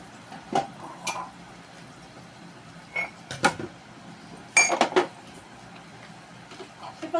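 Dishes being washed by hand, with intermittent clinks and knocks of plates and utensils spaced a second or two apart over a low background hiss, close and fairly quiet.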